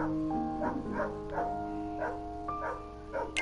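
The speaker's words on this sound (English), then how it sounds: "Excuse the barking dogs." Dogs bark faintly in the distance, a string of repeated yaps under a steady musical background.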